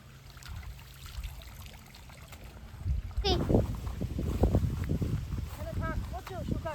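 Water splashes and trickles as a bag sticky with sweet syrup and a knife are rinsed outdoors, a close sloshing under a person talking throughout.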